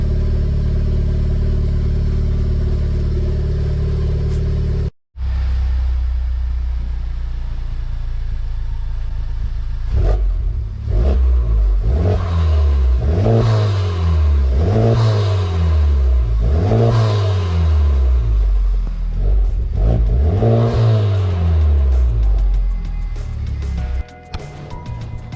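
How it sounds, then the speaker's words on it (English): A Honda Civic Type R with a Greddy Supreme SP exhaust idles with a deep rumble, then is revved repeatedly, rising and falling in a series of loud throaty blips close by. "I really like how the exhaust sounds."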